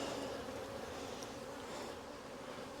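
A dense, continuous buzz of honey bees fills the air at a queen cell builder hive, close and even in volume, with no voices.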